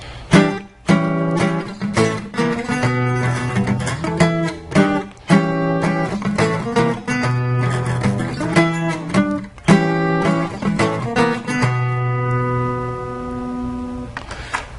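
A guitar plays a song's solo at full speed: a dense, loud, continuous stream of quick plucked notes and bends, ending on a held ringing note, with no talking.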